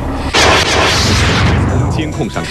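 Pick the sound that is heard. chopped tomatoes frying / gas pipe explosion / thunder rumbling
gas pipe explosion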